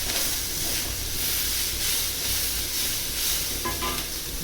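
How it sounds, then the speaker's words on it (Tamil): Two onions sauté in oil over full heat for sambar, giving a loud, continuous close-up sizzle with brief stirring scrapes near the end. "2 வெங்காயம். இதை நல்லா வதக்கிக்கோங்க சிம் ஃபுல்லாக வச்சு."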